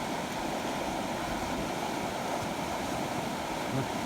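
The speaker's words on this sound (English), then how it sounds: "Nice rapids in there, ain't it?" Water rushing over stream rapids on flooded pastureland after heavy rain, a steady dense roar of flowing water that stays constant throughout with no other sounds standing out.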